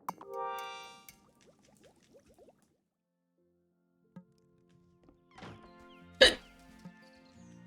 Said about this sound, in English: Excuse me, hiccups.